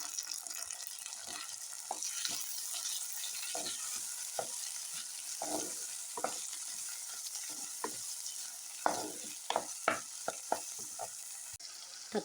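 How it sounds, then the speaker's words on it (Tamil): Onions and tomatoes frying in a pan for a Tamil fish curry, a steady close sizzle under repeated stirring clacks and scrapes, with no talk. "வெங்காயம் நல்லா பொன்னிறமாக வதங்கின பிறகு நறுக்கி வச்சுருக்க தக்காளியை அதில் சேர்க்கணும்."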